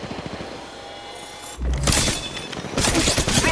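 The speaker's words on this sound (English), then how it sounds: "Listen up, I'm getting shot at." Gunfire in the Apex Legends Mobile shooter game, with quieter shots followed by two loud, dense bursts of rapid fire and impacts, close and harsh.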